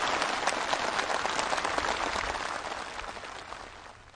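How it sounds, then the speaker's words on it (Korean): Enthusiastic applause from march participants at a ceremony presenting a march team flag, a dense, moderately loud wash of many hands clapping that slowly fades over four seconds. "답사 행군대 깃발이 참가자들의 열렬한 박수 속에 수여됐습니다"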